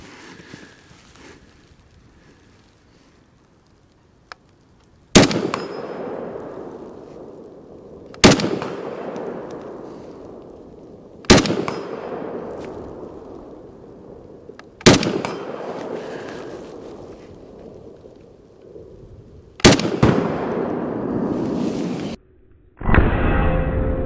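Gunshots from a rifle fired at bottle targets: five sharp, loud cracks spaced a few seconds apart, each ringing out into a long decaying echo, with no talking.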